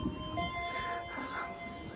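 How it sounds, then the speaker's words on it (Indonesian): A New Generation stainless steel passenger train, the Singasari from Blitar to Pasar Senen, rumbles steadily with a faint high metallic whine and soft clatter over roughly two seconds, moderately loud and without voices. "Ini ada kereta yang baru upgrade New Generation Stainless Steel coy."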